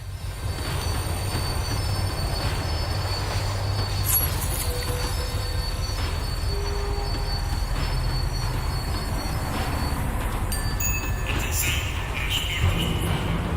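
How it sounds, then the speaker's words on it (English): A tram in the video game Max Payne 3 brakes with a steady, loud rumble as its wheels keep up a high, thin squeal, with metallic scrapes and clanks near the end and a voice faintly under the noise. "The tram was slowing down, and I'd only just gotten on board."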